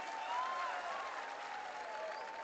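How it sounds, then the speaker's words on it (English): Applause from an opening-ceremony crowd at a regional skills competition for performers, a soft, distant, even wash of clapping with a few faint crowd noises. "Can we have a big round of applause for them,"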